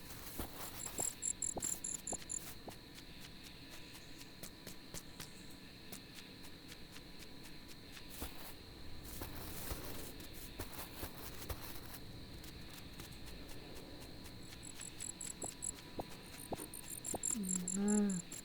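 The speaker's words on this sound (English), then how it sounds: "Loads of crickets, which I don't need." Crickets chirp steadily in the video game Dinkum, a dense outdoor insect chorus with high repeating trills drifting in and out against a faint ambient bed, with no voices.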